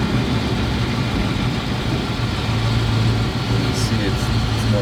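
A Plymouth Barracuda garage-find engine idles steadily at low RPM, a continuous close rumble under people talking.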